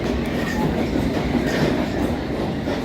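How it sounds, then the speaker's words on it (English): A London Underground Circle Line train runs along the track with a steady rumbling roar and faint rhythmic clatter, loud and continuous from inside or near the carriage, no talking. "I'm going all the way on this train, all the way around the circle"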